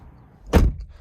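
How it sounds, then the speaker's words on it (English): One solid, heavy thunk as a door shuts on a 2023 Jeep Grand Cherokee L Summit Reserve, close and loud against quiet surroundings, with a faint click just after. "the door closing sound on new Grand Cherokees is super solid"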